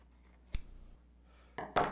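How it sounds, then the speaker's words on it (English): Scissors, not fabric shears, cut fusible interfacing, with two crisp snips and a short rustle close up in a quiet room. "I'm gonna go ahead and cut my fusible interfacing."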